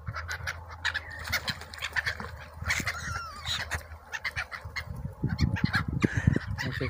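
Several gulls call out in bursts in Crimea, open-air and moderately near, with a steady low hum of wind or traffic underneath.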